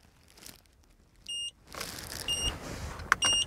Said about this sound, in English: to turn your buzzer on and off